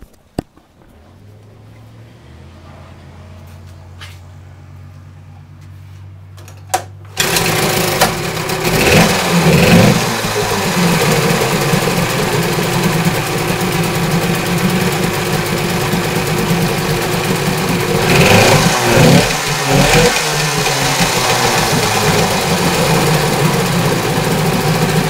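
A 10 HP Johnson outboard motor with a swapped ignition sounds that won't idle properly. It starts after a quiet stretch and then runs loudly and continuously with a rough, uneven drone that surges at times.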